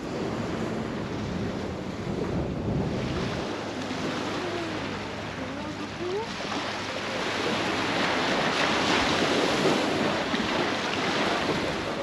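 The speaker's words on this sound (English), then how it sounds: "when you're in Spain, you've got to go to the beach, even if it's December. And this is Playa Los Peligros, Danger Beach" Surf at Playa Los Peligros, a beach in Santander, Spain, in December: a steady broadband wash of waves with wind buffeting the microphone, swelling louder in the second half, with no talk.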